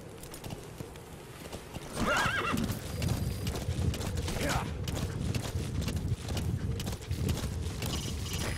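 In Metal Gear Solid V: The Phantom Pain, a horse whinnies and hooves clip-clop steadily at a gallop, with mechanical clanks and a voice speaking over the game sounds.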